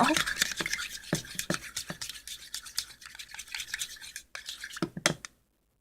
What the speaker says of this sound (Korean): 골고루 잘 섞이도록 섞어주세요. 저어주세요. 섞어주세요.